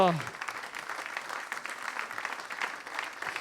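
A Pentecostal church congregation applauds and acclaims during a service. Dense, steady clapping from many hands fills the room after a brief voice at the start.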